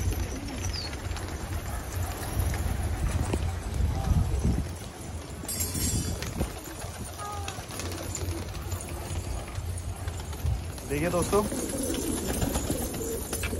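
A large flock of around 200 Patiyala pigeons coos and stirs, with wingbeats and shuffling under a voice. A clopping rhythm and a sharp burst of noise come partway through.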